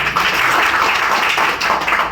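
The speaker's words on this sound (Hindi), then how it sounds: "जोरदार ताली के साथ स्वागत करो" A crowd at a meeting breaks into dense, steady applause, many hands clapping close together in a continuous roar with no pauses.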